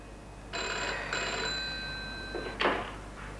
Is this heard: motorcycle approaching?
no